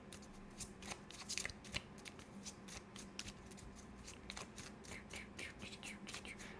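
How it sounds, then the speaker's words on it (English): Tarot cards are handled and shuffled close up, a quiet run of rapid papery riffles and soft flicks repeating throughout. "We're going to get the Moon card here and see what it says."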